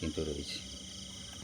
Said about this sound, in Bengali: একদম নিস্তব্ধ আর ঝিঝির ডাক